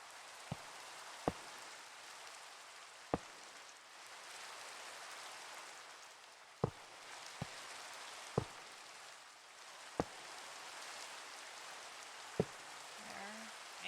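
Minecraft rain hisses in a steady wash, with sparse loud drip-like taps landing every second or two over the constant patter.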